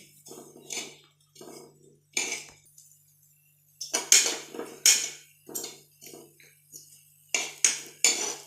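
Cumin, carom seeds and asafoetida dry roasting in a pan, heard as a run of short scraping and clinking strokes of a spatula against the metal, coming in bursts with brief pauses between them, close and moderately loud with no voice.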